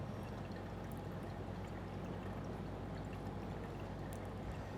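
Water is poured steadily onto coffee grounds in a Hario Mizudashi cold brewer, giving a continuous, even splash and trickle up close with no break.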